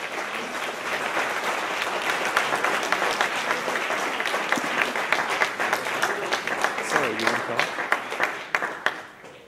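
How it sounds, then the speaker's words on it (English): Applause from the audience after a talk at a design hackathon, sustained clapping from a sizable crowd that grows sharper and more distinct claps near the end, with a faint voice underneath. "Another round of applause."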